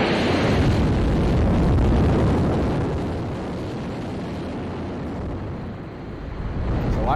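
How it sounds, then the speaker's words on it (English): A rocket's core stage engines fire at launch, a loud continuous roar of broadband rumbling that stays steady, dips slightly midway, then swells again, with no talk over it. "GLS is go for core stage engine start."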